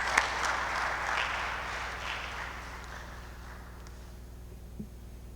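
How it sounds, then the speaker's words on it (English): Scattered applause from a workshop audience on dam safety, moderate and fading over a few seconds, with a faint hum and a couple of soft knocks in the room. "Please, a hand of applause."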